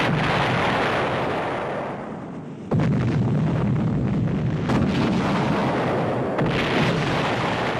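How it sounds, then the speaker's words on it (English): China's first atom bomb test detonating, a loud sustained roaring blast with heavy rumble that briefly dips and then surges again, rough and wind-like, with no voices. "China has exploded our first atom bomb"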